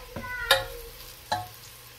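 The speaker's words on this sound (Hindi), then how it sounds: "चले हम इसको जल्दी से गोल्डन ब्राउन करते हैं।" Onions frying to golden brown for chicken nihari give a low, steady sizzle broken by a few sharp clinks of a spoon against the pan.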